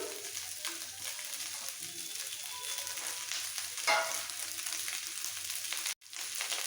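Chopped onion and capsicum for fried rice frying in a pan, giving a continuous hissing sizzle with a brief louder crackle near the middle, fairly quiet and close.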